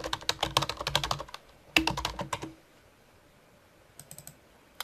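Fingers type on a computer keyboard while entering a department number into an Excel-based report, with a quick run of close, crisp key clicks, a pause, then a second burst and a few final taps.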